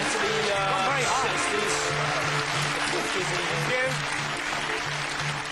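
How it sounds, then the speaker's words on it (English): A studio audience cheers and applauds loudly and continuously during a comedy show, with whoops and shouted cheers riding over dense clapping. "Cheer and applaud now for person 1."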